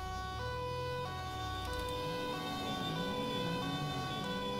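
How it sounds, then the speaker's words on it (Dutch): Police car siren in the video game GTA 5 with the LSPDFR mod, a steady warbling wail sounding close and loud over a low engine rumble, continuous through the whole stretch. "waarom heeft de B-klasse die sirene?"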